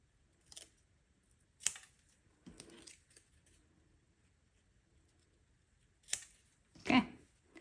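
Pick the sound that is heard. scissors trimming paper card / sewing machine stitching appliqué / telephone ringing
scissors trimming paper card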